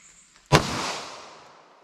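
A single sharp, loud gunshot from a 5-inch pistol firing .40 Smith & Wesson 180-grain rounds, with a sudden crack followed by a long ringing echo that decays over more than a second at an outdoor range.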